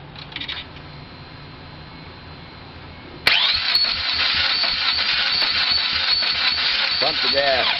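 A 2000 Chevy Tracker with a 2.0 engine being cranked over after a timing chain replacement: quiet at first, then a sudden loud, continuous rhythmic churning crank close by that does not catch, with brief talk early on.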